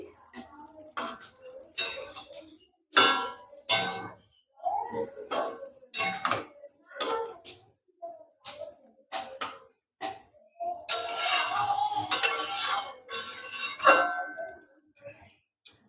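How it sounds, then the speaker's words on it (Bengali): Fennel-spiced pointed gourd (mouri potol) is stirred in a pan, giving intermittent bursts of scraping and clinking from the utensil with short quiet gaps between strokes. "এখন নাড়ায় নাড়িয়ে একটু পটলের গায়ে মিশিয়ে দিচ্ছি"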